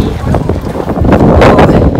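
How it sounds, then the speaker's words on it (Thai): Strong wind buffets the microphone outdoors on a street in Maastricht, producing a loud, continuous roar that swells and gusts. Faint voices sit underneath the wind. "ลมแรงทุกคน"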